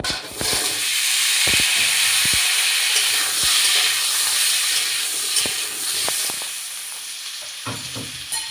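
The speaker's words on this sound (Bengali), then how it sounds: "এবার আলুটাকে আমি ভেজে নেব।" Washed potatoes seasoned with salt and turmeric fry in hot oil for a Bengali rui fish curry, a loud continuous sizzle broken by scattered sharp clicks and knocks of stirring, no talk.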